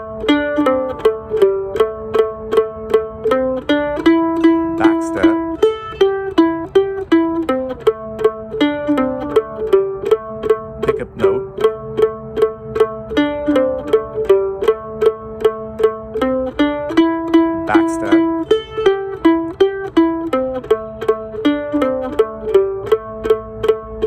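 A mandolin plays the B part of a bluegrass tune as a steady run of bright picked notes, clear and close with no talk.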